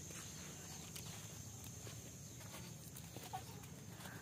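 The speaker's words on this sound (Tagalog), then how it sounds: "Nandito na po yung manok na may bangs." A crested chicken with spotted feathers clucks faintly outdoors over a steady background hum, with soft footstep-like rustles.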